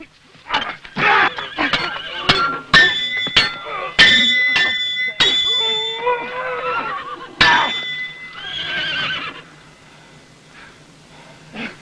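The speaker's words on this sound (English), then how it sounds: "A horse! You ever seen a Saxon ride a horse?" A horse neighs and whinnies repeatedly in sharp, close bursts, with clattering sounds scattered between the calls.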